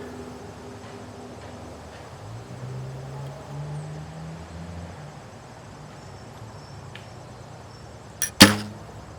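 A single bow shot fires from a bow fitted with a Hoyt 360 dampener, a sharp loud snap near the end after quiet outdoor ambience, followed by a brief second thump.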